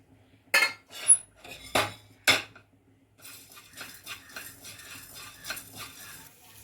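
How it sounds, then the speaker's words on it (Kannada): Pepper and cumin frying in a pan: sharp metal spoon scrapes and clinks at the start give way to a faint, steady sizzle with light stirring knocks, no voices. "ನಾವು ಮೆಣಸು ಜೀರಿಗೆ ಎರಡು ಒಂದು ಎರಡು ನಿಮಿಷ ಫ್ರೈ ಮಾಡ್ಕೋಬೇಕು"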